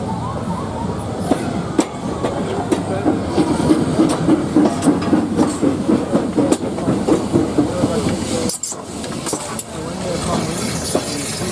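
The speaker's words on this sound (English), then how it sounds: "The only non-static locomotive operating at Old Oak Common on today's event was number 93, a Great Western Railway steam rail motor" Great Western Railway steam rail motor number 93 runs at the Old Oak Common depot open day, a steady rhythmic clickety-clack of wheels over rail joints with a hissing background and a brief squeal near the end.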